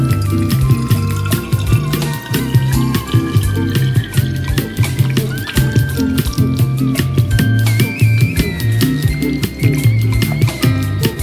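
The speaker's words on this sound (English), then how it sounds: "I'm gonna pour my oil in here" Spicy Mexican-style chili oil is poured from a container into a glass bottle, giving a steady, continuous liquid trickle with soft gurgles and clinks throughout, fairly close and loud.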